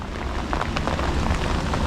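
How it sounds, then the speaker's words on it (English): Heavy rain pours down outdoors during a catfishing trip, a steady, dense wash of drops spattering on surfaces close by with no voices. "It started raining hard."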